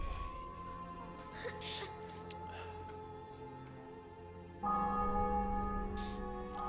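Bells peal in a video game after the city and fortress are taken in victory, several resonant chimes ringing out over faint background music, with a louder sustained tone swelling near the end.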